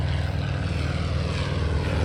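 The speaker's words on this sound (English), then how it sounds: "You might be able to hear the radial engine." A Stearman biplane's 270-horsepower Jacobs radial engine with a constant-speed propeller drones loud and steady, a close, unbroken propeller roar with no talk.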